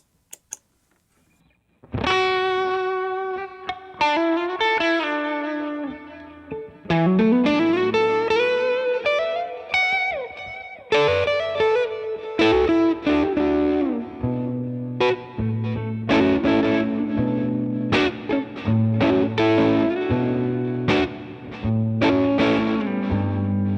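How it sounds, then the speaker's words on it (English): Distorted electric guitar through a UAFX OX Stomp pedal plays notes and chords drenched in reverb and echoing delay, trails lingering after each strum, with no talking. "As you can hear, there's reverb and delay going on"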